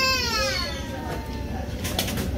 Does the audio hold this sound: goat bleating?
no